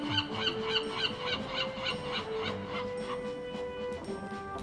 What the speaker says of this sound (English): Oh, I can hear some seagulls.